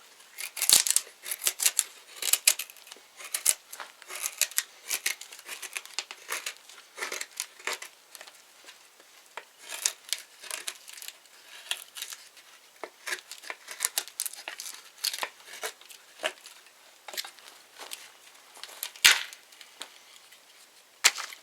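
A Jessmuk knife makes deep cuts, heard as scattered sharp scraping and chopping strokes at an uneven pace. The sounds are fairly faint and close, with no talking.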